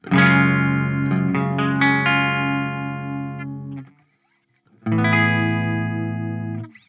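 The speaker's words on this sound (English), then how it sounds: "As you can hear, it's pretty classic Fender sound." Electric guitar chords through a Fender amplifier ring out clean and warm with a chorus-like shimmer, sustaining for a few seconds, a brief silence, then another strummed chord.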